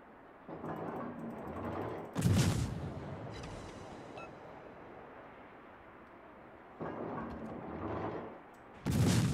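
Naval guns of the German tier 8 cruiser Mainz in World of Warships fire in two heavy salvos, each a sharp booming blast with a rumbling tail, separated by a stretch of lower ambient sea and engine noise.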